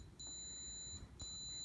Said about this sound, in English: Sorry about the beeping. My camera just shut off.